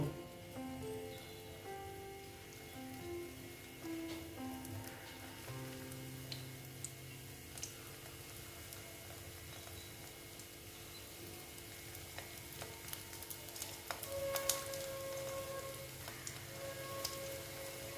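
Egg pieces frying in hot oil in a home kitchen, a steady soft sizzle and crackle running throughout at moderate level, close by, with occasional faint clinks and no talking.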